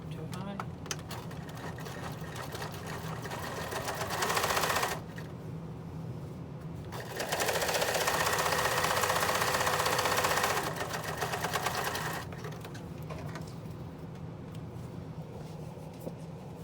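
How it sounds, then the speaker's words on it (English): A sewing machine top stitches across a folded fabric face mask in two bursts of steady whirring, loud and close, with a quieter hum and handling noise between them. "we're just going to top stitch across there"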